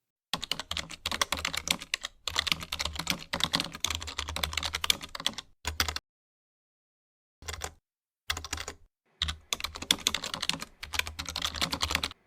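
Fingers typing login details on a computer keyboard, a dense run of close key clicks broken by short pauses, then resuming in bursts, with no voices.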